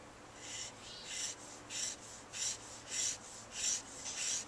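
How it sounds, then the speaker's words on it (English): A hand scraper removes old finish from the body of a 1979 Gibson Les Paul KM in about seven steady, rasping strokes, each a short, close scratch evenly spaced with brief pauses between. "I'm using a different scraper than I was before"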